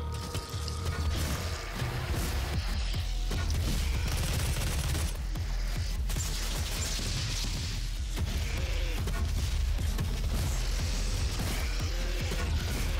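Explosive-rounds gun firing in Doom SnapMap, dense rapid bursts of gunfire and blasts layered over constant loud game action for the whole stretch, no talk.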